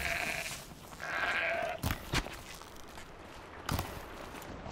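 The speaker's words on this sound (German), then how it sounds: "Ziege." Goat bleats from a Horizon Zero Dawn game scene, with several bleating calls near the start followed by two short sharp sounds and a later burst over steady ambient background.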